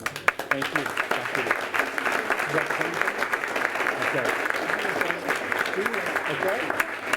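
Close, continuous applause fills a special called city council meeting, dense hand claps holding steady for several seconds with a few louder sharp claps standing out.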